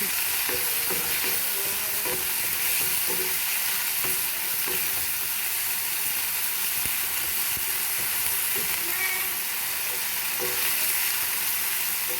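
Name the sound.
chicken frying and being stirred in a pan for shawarma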